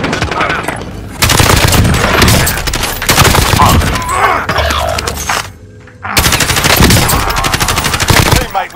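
Rapid automatic gunfire from the Call of Duty Warzone video game, loud and sustained bursts of shots with a brief gap near the end before firing resumes.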